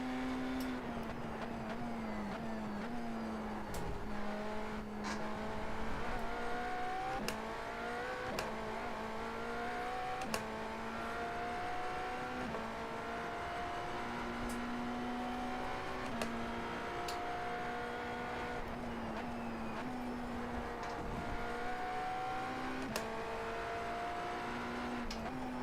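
Race car lapping the Road Atlanta circuit, its engine droning steadily near and loud with rising and falling pitch through gear changes and corners, unbroken throughout.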